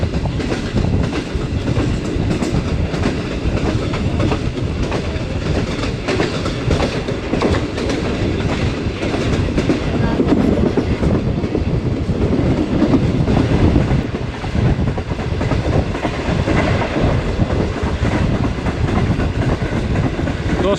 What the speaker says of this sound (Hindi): हमारी ट्रेन 14 टाउन अवाम एक्सप्रेस आहिस्ता आहिस्ता नौशहरा शहर की जानिब बढ़ रही है